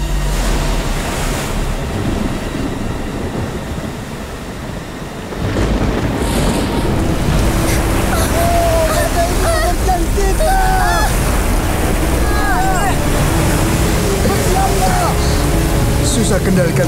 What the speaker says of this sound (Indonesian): Susah kendalikan kapal karena ombak ini. Ombaknya besar sekali.